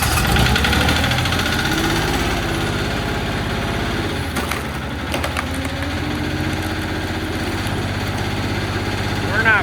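Small engine on a vertical log splitter running at reduced throttle, a steady low idling drone with rattling vibration that continues under people talking, briefly dipping partway through.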